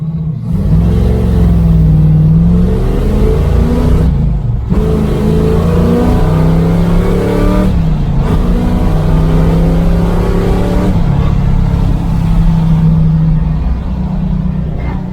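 A 1970 Camaro project car with a used clutch roars loudly as its engine revs and accelerates through repeated rising pulls, with brief drops between shifts, heard from inside the car.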